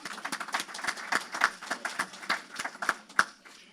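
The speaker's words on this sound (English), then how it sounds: "So let's applaud you." Lecture audience applauding, a modest crowd giving distinct, fairly sparse claps in an irregular patter, moderately quiet and steady throughout with no talk.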